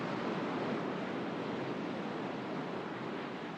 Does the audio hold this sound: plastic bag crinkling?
no